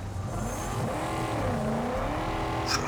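A car engine in the Mad Max video game drones steadily, its pitch shifting as it revs, fairly loud with no talk, ending in a short sharp burst.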